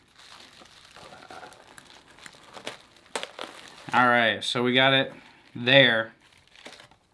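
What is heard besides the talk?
unwrapping beard oil package, crinkling wrapping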